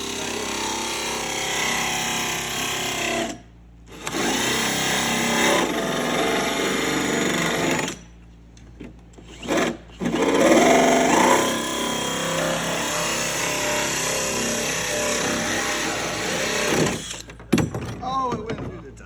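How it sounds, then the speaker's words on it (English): A Dremel rotary tool grinds through coating on a Supra roof with a sustained high-pitched whine, broken by a few short pauses and clatter near the end, while people talk over it. "be like hit it with a Dremel"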